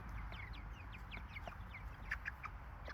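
A small hen clucks in a quick series of short, chirpy calls, close by, over a steady low background rumble on a farm.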